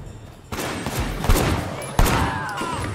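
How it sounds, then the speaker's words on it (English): Gunfire in the video game Sleeping Dogs during a wedding shootout: loud, dense bursts of shots fill the whole stretch with sharp, heavier blasts landing near 1.3 and 2.0 seconds. "Why they're shooting at us."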